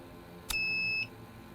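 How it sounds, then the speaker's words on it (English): A combination lock in the video game Tunnel Vision gives a single sustained electronic beep, a clean two-tone buzz holding for about half a second after a short click, alone over a quiet background. "Was that beep good or bad?"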